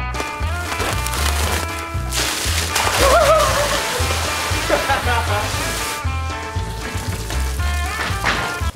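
Water pours and splashes out of a pickup truck bed in a loud, continuous gushing spill with sharp splatters, set against a droning engine hum and a brief tonal squeal midway.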